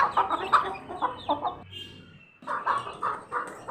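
Young chickens, just released after being shut in for a few days, cluck repeatedly at close range in short, busy bursts, with a brief lull midway before the calls pick up again.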